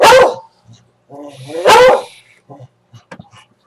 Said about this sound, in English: With the way he's doing his howls, he's like barking into like the air.